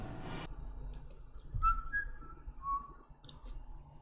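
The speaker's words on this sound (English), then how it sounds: "Whistling's easy." A person whistles a few short, faint notes, a couple of quick rising and falling tones, with soft clicks and a quiet background around them and no speech.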